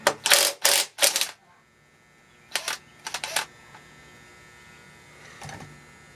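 Connecting rod bolts on an LS short block being spun off with a power tool, three loud close bursts of zipping, then a quieter cluster of short ones and a faint final whir.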